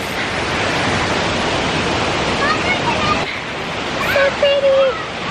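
A waterfall at Table Rock gives a constant rushing hiss, moderately loud and near, with brief voices and exclamations breaking in over it toward the end.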